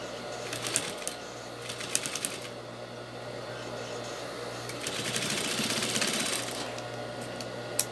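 A sewing machine stitches fabric in a steady, moderately quiet whir that runs through most of the stretch and swells louder toward the end, while a voice talks over it.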